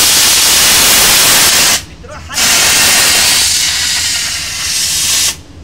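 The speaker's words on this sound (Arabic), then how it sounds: "كمية بخار رهيبة من جهاز صغير ايطالي، هذا سوبر كلين اس" A small Italian Super Clean S steam cleaner, used in a bus and car wash setup, jets steam in a loud, close, steady hiss that cuts out briefly twice, with a voice speaking under it.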